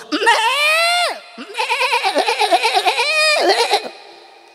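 A human voice mimics a goat's bleat up close: a long sliding cry, then a quavering, trembling bleat that tapers off.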